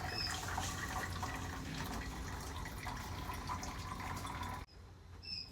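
Water pours steadily into a bird waterer in a barn, a continuous splashing fill that cuts off abruptly near the end, leaving quieter drips and room sound.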